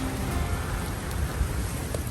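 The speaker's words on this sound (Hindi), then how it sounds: "बारिश बहुत तेज़ है" Dense, continuous rain pours down, a loud, even wash of hiss with occasional heavier drops, no voices.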